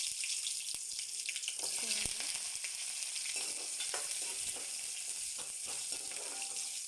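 Lentils with a little fenugreek and onion sizzle and crackle steadily in a pan, with occasional stirring scrapes and a soft voice in the background.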